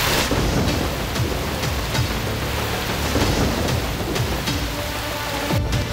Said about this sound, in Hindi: इस्लामाबाद में बारिश हुई